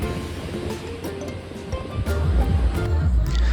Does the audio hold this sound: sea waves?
yes